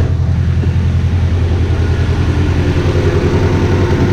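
Car engine idling steadily and smoothly, running on all four cylinders after earlier bent-valve repairs, a loud close-up even rumble with no revving.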